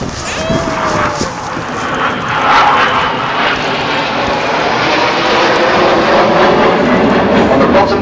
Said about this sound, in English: formation with white smoke is one of our first-year pilots, Red 4, Flight Lieutenant James McMillan